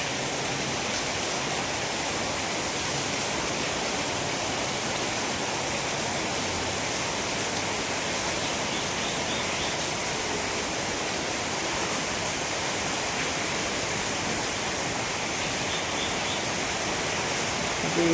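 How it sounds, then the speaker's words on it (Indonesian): Heavy rain falls steadily on a house with a leaking concrete roof, a continuous dense hiss with no breaks and no voices throughout. "Tapi hujannya sangat syahdu ya"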